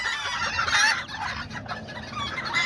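A broody hen of Azteca or Serama bantam stock clucks and chatters close by while tending her young chicks. The murmuring calls go on without a break, with no talk over them.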